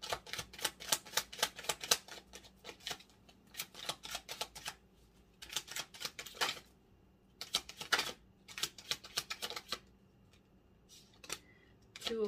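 Tarot cards are shuffled in quick bursts of crisp flicking and riffling clicks, separated by short pauses, close and fairly quiet, with no voice heard.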